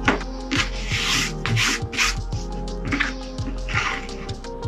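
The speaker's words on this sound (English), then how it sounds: "Just roughen up the edges a little bit to give the epoxy something to stick to." The edges of a DIY VR webcam mount are roughened by hand before epoxy, making rhythmic back-and-forth scraping strokes, close and repeated about a dozen times.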